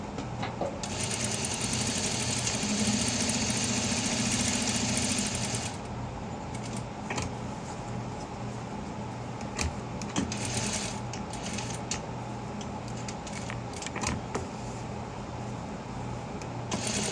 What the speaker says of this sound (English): I'm going to sew it on the inner flap